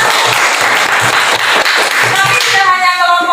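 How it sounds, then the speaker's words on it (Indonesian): Classroom students clap for a group, dense hand claps with a few individual sharp hits, ending as a voice and tonal sounds rise near the end. "Tepuk tangan untuk kelompok 1."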